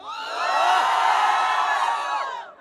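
A crowd at a live Urdu poetry recital shouts and cheers loudly all at once, a sustained roar of whoops and yells that swells and then fades.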